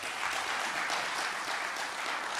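Attendees clap at the official opening of an African service-learning conference at a university, a continuous broadband wash of hands at moderate distance, fairly faint and uniform.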